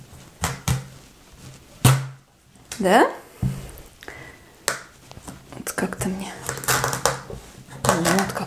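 Crisp, crunchy cuts into raw pumpkin, a series of sharp snapping crackles scattered between a person's close-up talking.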